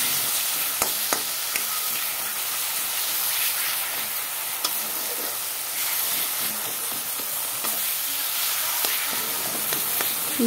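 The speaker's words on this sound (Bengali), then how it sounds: "দেখো ঝোলটা দিয়ে দিলাম, তারপর মাছগুলোকে ঢেলে দিলাম।" Fried small fish poured into gravy with tomato and olive in a cooking pan, producing a steady loud sizzle and hiss with occasional clinks and stirring knocks throughout.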